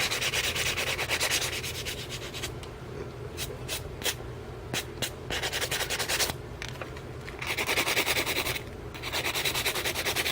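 Filing excess acrylic off a fingernail with a nail file, a steady close scratchy rubbing that runs continuously with short pauses between bursts of strokes, no voices.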